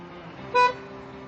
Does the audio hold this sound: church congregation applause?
no